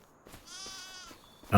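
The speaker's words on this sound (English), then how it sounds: "So I think we've got 15 new sheep here." Sheep bleat in Farming Simulator 25 with a drawn-out, wavering in-game cry from a flock of new sheep and young lambs, fairly close, ending in a sudden louder burst.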